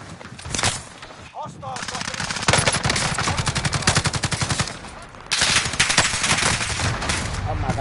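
Rapid, sustained bursts from a light machine gun in Modern Warfare II, loud and close, with dense rhythmic firing broken by a brief pause and a second long burst.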